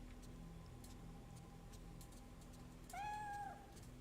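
A cat in the horror video game Fatal Frame III gives a single clear, drawn-out meow against a quiet ambient drone with faint ticking.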